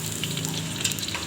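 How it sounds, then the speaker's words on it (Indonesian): Shallots fry in hot oil in a pan as the base for an Acehnese fish stir-fry, giving a close, steady, bright sizzle with crackling pops throughout. "Aku masukkan bawang merah dulu untuk menambah aroma kuah tumisnya."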